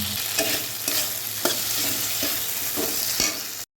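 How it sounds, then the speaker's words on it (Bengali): Fried potatoes being stir-fried with tomato, salt and turmeric spice paste in a pan for a koi fish curry, with loud close sizzling and repeated rhythmic scrapes of a spatula stirring, ending abruptly. "তো আলুগুলো কষানো হয়ে গেছে"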